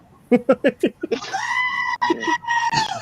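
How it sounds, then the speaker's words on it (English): A screaming goat sound effect: a run of short staccato bleats speeds up, then breaks into a long, loud, wavering scream, followed by a few more ragged cries. "Everyone loves screaming goats."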